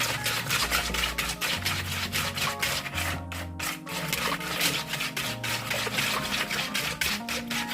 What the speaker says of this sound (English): Make sure you mix nicely because you want your sugar to dissolve.